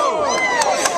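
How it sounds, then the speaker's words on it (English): A crowd of onlookers at a trout-bobbing contest cheers and shouts steadily, with several voices rising into louder whoops and yells throughout. "Come on, cheer him on."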